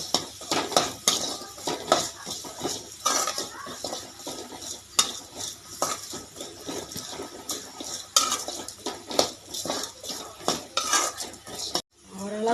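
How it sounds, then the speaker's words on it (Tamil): A utensil stirs and scrapes bottle gourd with rock salt against a metal pan with a light sizzle, clinking steadily up close. "நான் வதக்கிட்டுருவேன்"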